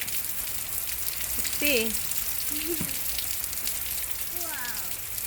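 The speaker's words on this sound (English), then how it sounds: "We are videotaping the rain coming down." Steady rain pours down outdoors, a constant hissing patter that runs through the whole scene, with a brief spoken remark and a few faint bird chirps over it.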